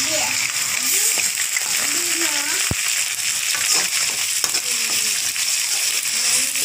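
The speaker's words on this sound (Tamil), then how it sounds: "இப்போ அரைச்சி வச்சுருந்ததெல்லாம் மிக்ஸ் பண்ணுறோம்." Ground paste is stirred into onions frying in oil for a mutton liver gravy, giving a continuous sizzle with stirring scrapes and a sharp utensil knock, under a voice talking.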